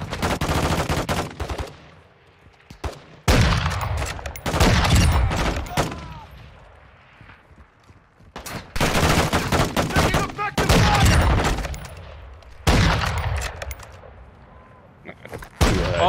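Gunfire in Call of Duty Warzone 2.0 DMZ: loud, repeated bursts of automatic weapon fire and rapid shots break off into short lulls, then resume over and over.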